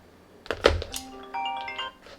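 A phone chimes a short notification: a thump followed by a few bright ringing tones that fade, close and moderately loud, with no talk over it.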